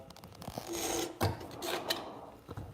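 A Shun kitchen knife drawn across a sharpening stone, several short scraping strokes in uneven rhythm, close and quiet, with faint rasping between passes.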